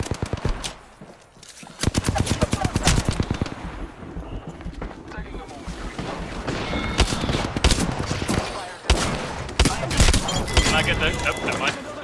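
Video game gunfire rattles in loud, dense automatic bursts and scattered single shots throughout a hectic match, with players' voices talking over the shooting.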